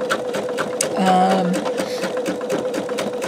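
A sewing machine stitches a greeting card backed with peel-and-stick stabilizer, a close, rapid mechanical chatter at an even pace, with someone speaking briefly over it.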